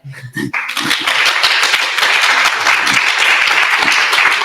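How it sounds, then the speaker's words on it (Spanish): An audience at a university session on Tolkien breaks into steady, dense applause just after a short voice, and the clapping stays full and even to the end. "Un aplauso para él."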